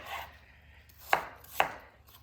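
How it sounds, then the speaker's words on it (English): Two sharp knife chops through apples on a cutting board, close and distinct, spaced about half a second apart in an otherwise quiet kitchen. "I'm chopping apples"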